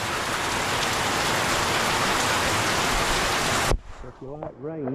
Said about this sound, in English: So if you like rain, welcome to the Philippines.